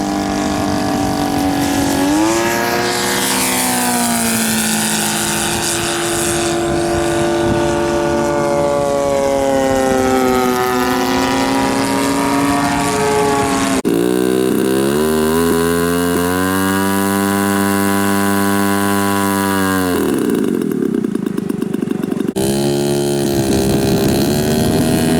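Aircraft engines at the Goshen air show drone loudly as planes do touch-and-go takeoffs, a sustained engine roar with rising and falling pitch, and a second engine surging in closer partway through.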